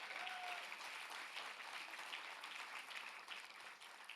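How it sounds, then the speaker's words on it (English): Sustained applause from a gala audience at a 20th anniversary celebration, a dense, steady wash of clapping that holds at an even level throughout without voices. "Can you give a round of applause for this wonderful organization?"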